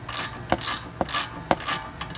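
A hand ratchet tightens the tie rod end bolts on a 2014 Ford Mustang, clicking close in four even back-and-forth strokes, each a sharp snap followed by a buzzing pawl run.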